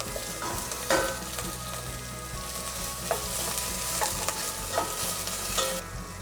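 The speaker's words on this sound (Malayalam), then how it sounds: "കുറച്ച് ഒലിവ് ഓയിൽ ആഡ് ചെയ്യാം. ചെറുതായി അരിഞ്ഞു വെച്ചിരിക്കുന്ന സവോള ഇതിലേക്ക് ആഡ് ചെയ്യാം." Chopped onion sizzles steadily in olive oil in a pan for a potato minestra, with a spoon stirring and scraping in a few distinct clicks, close and continuous with no talk.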